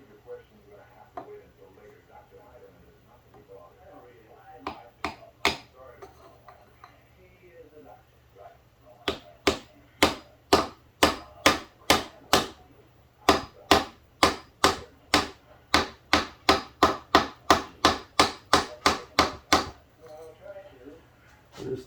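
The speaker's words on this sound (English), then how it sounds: "Just tapping lightly." A cut-off metal roofing spoon handle taps lightly on the top crank seal of a 1966 Evinrude 18hp outboard motor, a few scattered taps then a long run of sharp, evenly spaced close taps.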